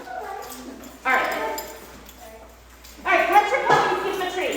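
Puppies yip and bark in two short bursts during a group training session, close by with an indoor echo.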